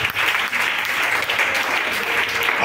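A congregation at a church service applauds for Jesus Christ, loud, dense, continuous clapping filling the room without a break.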